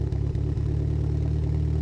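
A Mitsubishi Galant engine idles steadily up close, a constant low rumble with a faint periodic tick and no voices.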